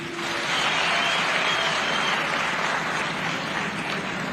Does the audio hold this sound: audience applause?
yes